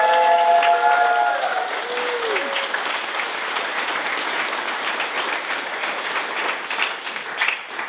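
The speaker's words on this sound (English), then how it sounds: "Give them a round of applause." Audience applause for a team at a company's 25th anniversary gathering, a dense, steady wash of many hands clapping that fills the room for the whole stretch, with a few faint voices and whistles at the start.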